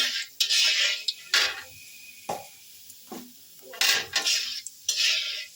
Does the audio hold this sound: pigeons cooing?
no